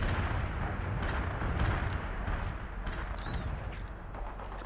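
Heavy artillery barrage in the video game World in Conflict, a continuous rumbling roar of overlapping explosions and distant booms, loud and dense throughout with no pauses.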